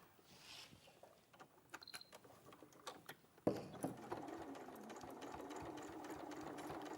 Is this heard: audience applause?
no